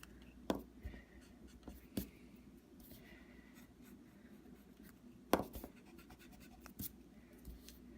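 Pencil strokes scratching across paper while a Joker portrait is drawn, soft and close, with a steady faint scraping texture and a few sharper taps and louder strokes scattered through.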